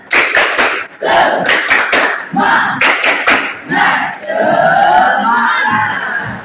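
Schoolchildren in a class clap out the 'tepuk semangat' routine, with crisp rhythmic hand claps and loud unison chanting, closing on a long collective shout.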